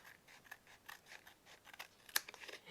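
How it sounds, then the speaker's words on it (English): Scissors snip through excess paper trimmed from glued mixed media layers, a series of quiet, crisp cuts at an irregular pace, with one sharper, louder snip near the end. "Let me trim off the excess there"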